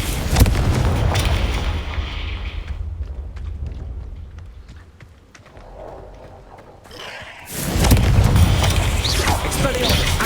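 Confringo blast spell explosions in the Hogwarts Legacy video game, loud booming bursts at the start and again near the end with a quieter crackling stretch between, layered over game music and effects.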